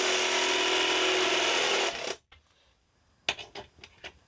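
A step drill bit bores through the metal of a Ducato van during a sliding door conversion, a close, loud whirring grind for about two seconds that stops abruptly, followed by a few light clicks and taps.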